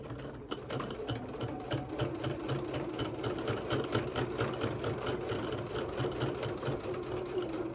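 A sewing machine runs a steady back stitch while a small bag is sewn, its needle chattering in a fast, even rhythm over a low motor hum, close and continuous without pause.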